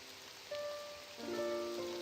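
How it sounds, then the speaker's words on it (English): Rain falls steadily outside a town in the horror game The Village Demon, a soft broadband patter with faint tonal game music drifting over it. "The rain."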